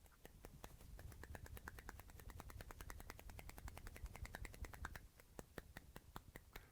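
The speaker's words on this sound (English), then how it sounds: "So that's the sound of one hand clapping." One hand's fingers flap against its own palm in the manner of a djembe lesson, producing a fast, even train of crisp snapping clicks, close and fairly quiet, with a brief pause near the end before resuming.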